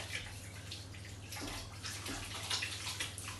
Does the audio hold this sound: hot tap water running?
yes